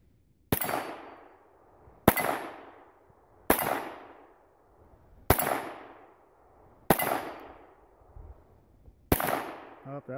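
Gunshots striking hanging AR500 steel plate targets, six sharp separate cracks, each followed by a ringing metallic clang that fades over about a second, spaced evenly across the clip.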